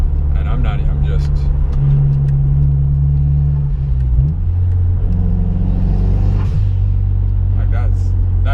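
A Mazda Speed3 rumbles steadily from inside the cabin on a ride-along, a low engine and road drone that holds loud and constant with slight pitch shifts as it accelerates, and a voice talks over it.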